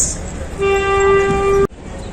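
Pakistan Express train at Rawalpindi station sounds a long steady horn blast of about a second over station rumble, cutting off abruptly, then ambient platform noise continues.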